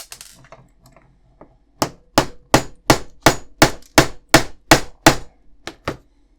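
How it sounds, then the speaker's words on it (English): A small tack hammer taps a pin home on a 1:16 scale Leopard 2A6 tank model about a dozen times in a quick, even rhythm, sharp metallic strikes close by, after a few softer preliminary taps. "just use a small tack hammer just to hammer that home."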